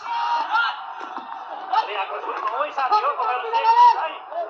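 A crowd of protesters outside Parliament, with many voices shouting and chanting together in a dense, agitated roar that swells and falls, heard at a distance.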